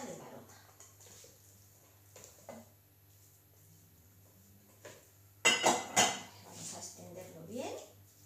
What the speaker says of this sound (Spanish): Vamos a colocar el pollo en la bandeja del Varoma.